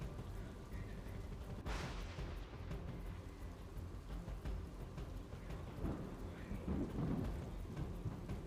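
A heavy monsoon downpour in South Gujarat hisses steadily on surfaces while a sharp thunder crack breaks early and deeper rumbles roll in later, with no voices.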